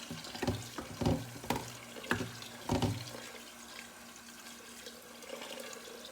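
Water poured from a tap into a pot over raw chicken feet for soup, heard as a run of splashy, gurgling bursts that fade into a softer, steady trickle, fairly close and with no talking.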